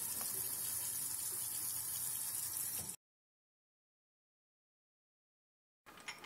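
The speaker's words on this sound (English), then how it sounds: "clean and wash out the dropper as best as you can" Tap water running steadily into a sink while a dropper bottle is rinsed out, a close, even rush of water that cuts off abruptly, followed by silence and a short burst of water again at the end.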